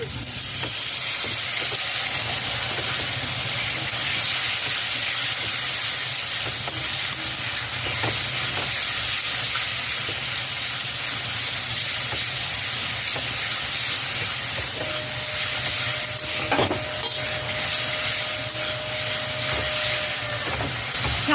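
Potato and tomato puree hitting hot oil in a pan of rupchanda (pomfret) mustard fish curry, giving a steady, loud sizzle with scraping stirs throughout and a few sharper spits of steam, with no talking.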